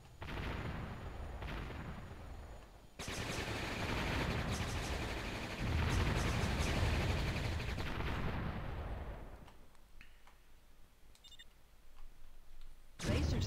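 In the video game Warzone, a laser satellite strike fires as a heavy, sustained roar of loud blasts and crackling booms, with a sudden cutoff near the end leaving quieter ambient game noise and a few high electronic tones.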